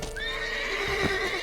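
A horse in The Witcher 3 video game gives a sustained, wavering neigh over a steady background bed, with a few soft hoof-like clops underneath; no one speaks.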